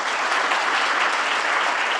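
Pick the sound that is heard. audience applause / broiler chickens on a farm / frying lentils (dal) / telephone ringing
audience applause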